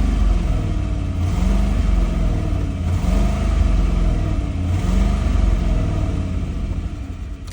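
A 2008 Ford Expedition engine revving under throttle, three loud rising surges over a steady rumbling idle, recorded close up with no voices.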